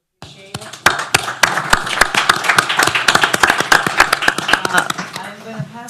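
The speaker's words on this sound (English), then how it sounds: "Another round of applause for Aaron" A round of applause for a tech-talk participant begins abruptly and builds into brisk, sharp clapping from a small audience, close and percussive, tapering slightly at the end as a voice comes in.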